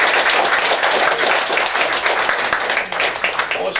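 A Korean audience gives loud, sustained applause to welcome an imperial descendant after his speech at a Chuseok gathering, dense clapping that eases slightly toward the end.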